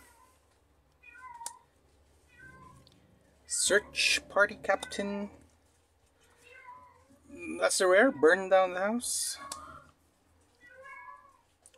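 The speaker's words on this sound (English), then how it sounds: "Don't mind my cat. My cats are horny." A house cat meows in the background in two bursts of strained, wavering cries, while a person talks quietly during a Commander card game.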